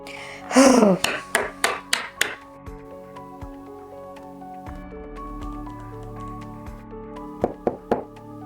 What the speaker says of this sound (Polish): Nie musisz pukać.